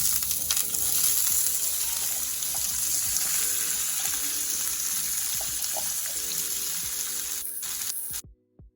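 Onion, scallion, garlic and sweet pepper sautéing in a frying pan for brown stew fish, with a loud, steady hiss of sizzling and occasional light scraping knocks, close by, ending abruptly in silence.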